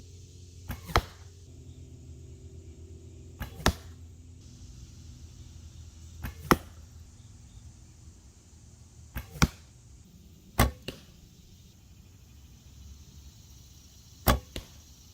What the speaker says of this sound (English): take some more shots, and just test a little bit more on arrow flight